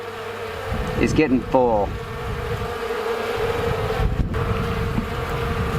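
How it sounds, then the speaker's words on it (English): Swarm of honey bees buzzing around an open hive, a constant close drone with individual bees passing near, while a person talks briefly over it. "That's a lot of bees."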